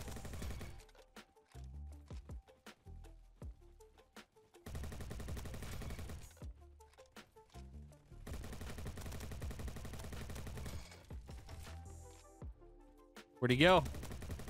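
Gunfire during a Roblox Bad Business match with the G36 in use: several long stretches of rapid automatic shots separated by brief pauses, ending with a short spoken line.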